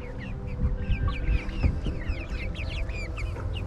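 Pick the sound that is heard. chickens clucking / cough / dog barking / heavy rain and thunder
chickens clucking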